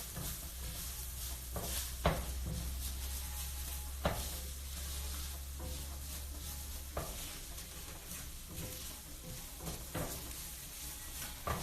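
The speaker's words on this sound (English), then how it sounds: "I'm going to throw those in the pan and let them toast up a little bit" Spices toasting in a pan, a soft continuous sizzle broken by occasional stirring scrapes and light clinks of a utensil against the pan, fairly quiet and close, with no voices.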